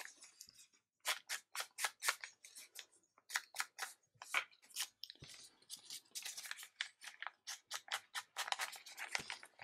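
Scissors cutting paper for a lapbook, a quick series of close, crisp snips in bursts with short pauses between, alone without talk.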